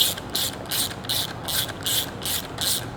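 A ratchet drives bolts into an engine accessory bracket with quick, evenly spaced clicking strokes, close and crisp, about eight pulls in a row with no voices.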